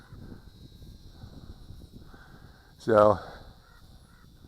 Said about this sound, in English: oh, I hear a raven.